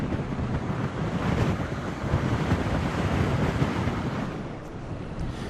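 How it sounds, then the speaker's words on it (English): Hurricane surf pounding North Carolina's Outer Banks coast, a continuous heavy roar of crashing waves mixed with loud gusting wind buffeting the microphone, steady and dense throughout with no voices. "Hurricane Erin battered North Carolina's Outer Banks, packing strong winds and massive waves"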